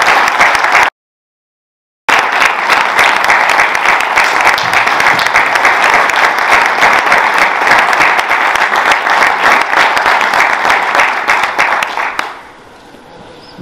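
Loud, sustained audience applause at an award ceremony for the Religión en Libertad 2021 prizes. Dense clapping runs for over ten seconds, broken by a brief dropout early on, then stops sharply and leaves faint room noise.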